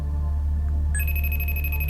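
An incoming call rings on a phone in a thriller film. A pulsing electronic ringtone starts about halfway through and sounds steadily over a constant low hum.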